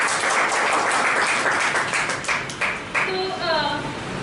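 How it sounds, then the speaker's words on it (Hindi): Audience applause at a Hindi poetry gathering, a steady wash of clapping that carries through the whole stretch before thinning out, with a voice coming through near the end. "एक बार फिर से ताली बजा देते हैं।"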